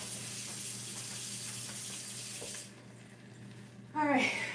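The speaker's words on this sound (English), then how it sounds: "Wash my hands." A kitchen tap runs while hands are washed during pancake making, a steady close hiss of water. Near the end the flow stops, and a brief splash and rustle of hands follow.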